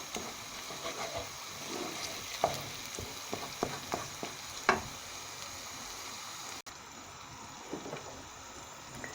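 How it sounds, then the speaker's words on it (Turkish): Onions and tomato paste frying in a pan, a steady close sizzle with occasional clinks and stirring scrapes throughout, no talk. "soğanımı ve salçalarımı hafif böyle bir kavuruyorum."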